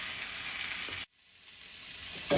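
Pork chops sear in oil in a hot pan, a loud steady sizzle that cuts out abruptly partway through, then returns softer and gradually builds again.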